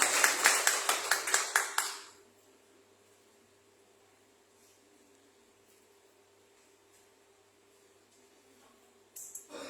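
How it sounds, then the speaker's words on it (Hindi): A church congregation claps for Jesus in a quick, even rhythm, about a dozen sharp claps over two seconds, then falls away to near silence with a faint steady hum. "एक और तालियां यीशु के लिए"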